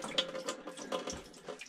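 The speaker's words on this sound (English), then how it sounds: "Fresh water, foot pump." Fresh water from a foot pump runs into the sink aboard a Rival 34 sailboat, a soft steady trickle and splash heard close and fairly quiet.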